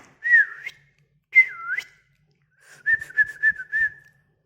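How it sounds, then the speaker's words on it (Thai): A person whistles outdoors at home with a dog nearby, three separate bursts of clear, wavering whistled tones, the last a longer warbling phrase, close and fairly loud with no talking. "โอ้ยผิวปากแห้งบ่ค่อยเป็นอยู่"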